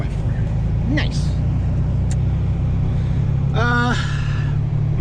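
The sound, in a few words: truck rolling in 4x4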